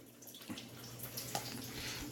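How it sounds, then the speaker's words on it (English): Water pouring from a Python aquarium gravel-siphon hose into a sink during a tank water change, a faint steady splashing trickle with a few small drips and no voices. "And the water will start pouring out."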